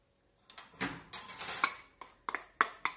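A mixing bowl is picked up and set down while making chocolate fondants, giving a string of close, sharp clinks and knocks of crockery and cutlery over about three seconds, with no talking.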